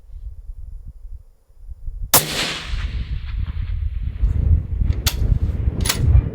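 A single sharp 6.5 PRC rifle shot cracks loudly out of near silence, followed by a lingering rumble and two fainter metallic-sounding impacts a few seconds later.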